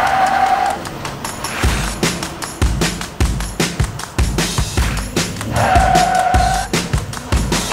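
A Ford F-150 pickup with the 3.0L Power Stroke diesel accelerating hard, a loud, strained engine roar that climbs steadily, with brief tonal whines near the start and again late in the run.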